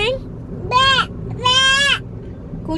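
A child imitates a goat's bleat with two wavering, nasal vocal calls, close and clear against a quiet background.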